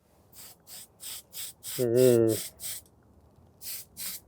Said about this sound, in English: So we'll do some spraying and masking for that.